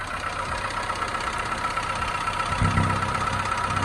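A worn car engine in need of a timing chain idles roughly, a steady low rumble with uneven knocking pulses, growing a little louder and heavier near the end, with no talk over it.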